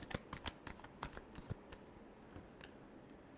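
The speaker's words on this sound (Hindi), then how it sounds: "last shuffle" Tarot cards being shuffled close up, a series of soft quick riffles and flicks over about two seconds that taper into a few lighter taps, quiet with no talk.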